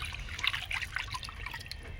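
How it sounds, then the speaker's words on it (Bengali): Water trickles and splashes into a pot of sour fish-roe curry made with amchur, a light, close liquid pour with small bubbling drips over low background noise, no speech. "পরিমাণ মতো জল দিয়ে দেব"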